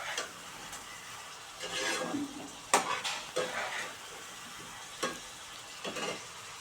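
Potatoes sautéing in oil in a pan, with soft sizzling and intermittent stirring scrapes and clinks, fairly close and moderately loud, with no talking.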